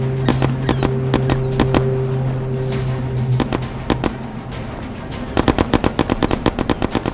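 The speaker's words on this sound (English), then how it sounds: "Keep shooting!" Gunfire in the video game Firewall Zero Hour: rapid rattling automatic bursts and single sharp shots, loud and close, with a steady hum beneath early on and a fast crackling volley at the end.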